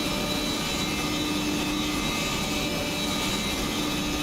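A race car engine in the rFactor 2 racing game screams at very high revs near 10,000 RPM, a steady, loud, continuous whine held without a break and with no talking.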